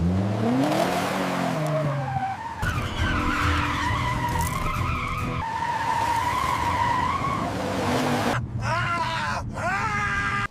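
Car tires squeal and skid under hard braking in a chaotic chase, long screeching tones with engine groan, loud and continuous, breaking into sharp separate squeals near the end.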